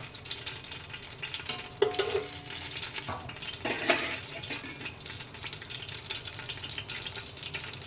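Whole spices for egg biryani (bay leaf, shahi jeera, cardamom, cinnamon, marathi moggu) drop into hot oil and fry, a steady sizzle with two louder bursts as they hit the pan, close up, no talk.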